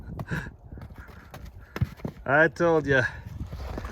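A freshly washed horse shuffles and stamps, its hooves giving scattered soft thumps close by while a person talks over it.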